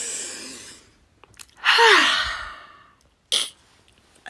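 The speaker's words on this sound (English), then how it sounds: "Deep breath." A single deep breath, drawn in close to the microphone and released as a long, audible exhale with a soft hiss, followed by quiet and a brief click.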